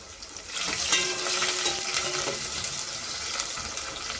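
Thinly sliced onions fry in hot oil in a pan for a chicken curry, making a steady, close hissing sizzle that holds throughout.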